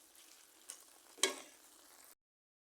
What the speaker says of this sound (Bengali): দিয়ে ভালোভাবে একটু নেড়ে চেড়ে মিশিয়ে দেব